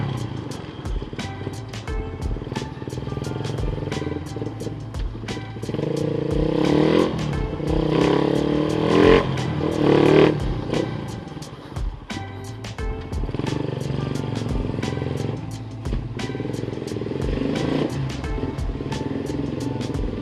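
A Suzuki Raider 150 motorcycle engine fitted with a 28mm carburetor idling roughly with a couple of revs rising in the middle, close and steady, with light mechanical clatter.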